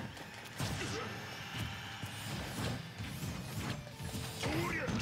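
Fighting-game action from Super Smash Bros, with dense overlapping hits, crashes and whooshes of a down smash attack amid busy game effects, moderately loud, with some voice in the mix.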